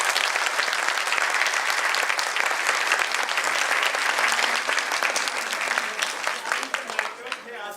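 Loud, sustained applause from a theatre audience at a birth anniversary play celebrating Dada Saheb Phalke: dense, continuous clapping that fills the space and thins slightly toward the end.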